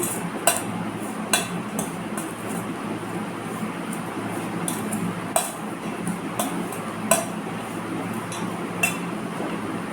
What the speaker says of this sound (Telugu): ఇవన్నీ షుగర్ పౌడర్, అన్నీ మిక్స్ చేసుకొని